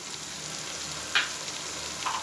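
Roasted, crushed coriander and cumin go into frying mash dal for a dhaba-style Pakistani fry daal, the steady close sizzle broken by one short bright scrape or clink partway through and a faint clink near the end.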